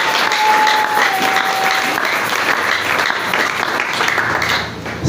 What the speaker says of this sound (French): Acclame bien pour la gloire de notre Dieu.